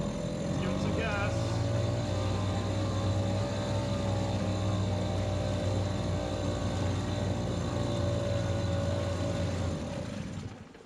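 A Mercury 2.5 hp two-stroke outboard engine with a suspected carburetor or fuel problem runs steadily with throttle applied, a loud, close, continuous buzzing drone that fades at the very end.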